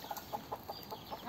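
A hen clucks softly in a quick, even rhythm of short calls while helping her chicks, the sounds faint and close against a quiet background.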